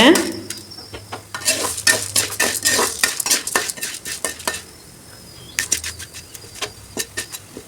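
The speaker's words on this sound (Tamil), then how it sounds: "புளியோட ஈரத்தன்மையெல்லாம் போகணும் அந்த அளவுக்கு வதக்கிக்கிங்க" Tamarind and horse gram being sautéed in a pan: a metal spoon scrapes and clinks against it in quick, irregular bursts over a faint sizzle, with a short lull midway, up close.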